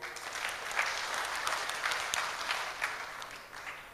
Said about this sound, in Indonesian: tepuk tangan untuk Pak Jokowi